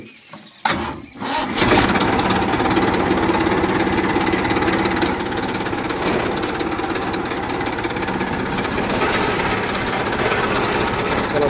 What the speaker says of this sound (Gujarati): તો ચલો તાને હવે ટ્રેક્ટર ઉપાડી દઈએ